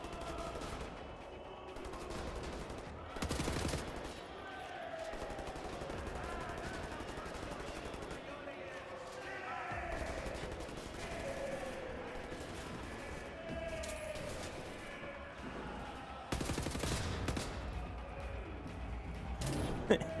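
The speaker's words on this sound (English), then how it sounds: "I'm just shooting." Rapid gunfire in the shooter Wolfenstein: The New Order, bursts of shots separated by quieter stretches, heavier volleys near the start and end, with game sounds and a voice talking at times.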